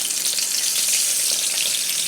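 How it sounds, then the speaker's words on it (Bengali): Bay leaves and broken dried red chillies hit hot oil for tempering, giving a loud, even, close sizzle that holds steady throughout with no talking. "এই যে আমি এখন ফোড়ন দেবো, তেল গরম হয়ে গেছে আমার।"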